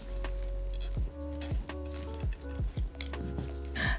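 Blueberry batter being stirred and mixed by hand, giving repeated wet, squishy strokes in an uneven rhythm, close and fairly loud.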